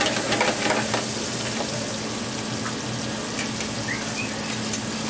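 Garlic sizzles and fries steadily in a hot pan as the base for a lobster and shellfish fra diavolo, a constant close crackle that is loudest at the start and then settles into an even hiss with no talking.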